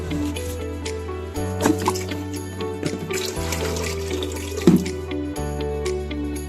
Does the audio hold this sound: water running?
yes